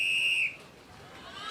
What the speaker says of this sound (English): On the whistle.